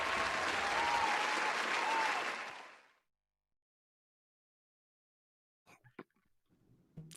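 A studio audience claps loudly for about three seconds and then fades out. After a silence, a few faint voices follow.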